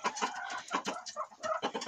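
Hens in a neighbouring Romanian backyard clucking steadily and fairly close, several birds overlapping in short repeated calls with no talk over them.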